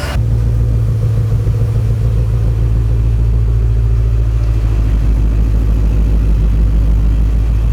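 A Whipple supercharged Ford Mustang engine idles as it warms up, a steady, loud low rumble that holds evenly throughout with a slight shift in tone partway through.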